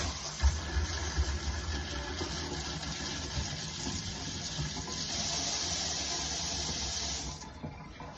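Cold water runs steadily from a kitchen mixer tap, a continuous broadband hiss that brightens midway and stops abruptly near the end, close and fairly loud with no talking.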